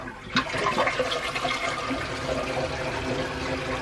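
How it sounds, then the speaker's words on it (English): Small flush of a Japanese bidet toilet with heated seat in a modern Tokyo apartment, a close rushing swirl of water that starts suddenly and settles into a steady refill hiss. "Let's do a little flush."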